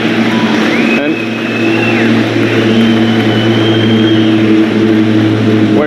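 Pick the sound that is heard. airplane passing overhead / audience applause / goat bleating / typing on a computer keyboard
airplane passing overhead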